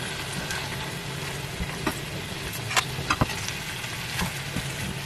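Salmon fillet flavored with mint sizzles steadily on a hot grill, a dense continuous frying hiss with a few sharp pops and clacks as the fish is gently turned over, close and alone.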